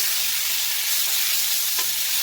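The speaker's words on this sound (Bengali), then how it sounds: "এখন সিমগুলো একটু তেলে ভেজে নেব" Flat beans frying in hot oil in a pan, a steady, even sizzle that holds at one level throughout, with a faint stir or clink near the end and no voices.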